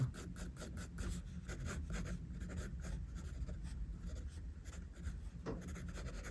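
A pencil draws eye lines on paper with quick, repeated scratching strokes in a busy rhythm. It is close and quiet, with no voices.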